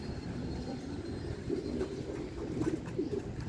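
Racing pigeons coo in short soft bursts at a loft during a fourth-lap derby race, a few low murmuring calls rising over steady background noise, with no talking.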